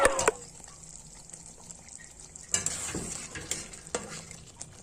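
Chicken added to frying masala in a pot, a sharp clatter and splash at the start, then a low sizzle with scattered stirring scrapes and a second burst of clatter midway.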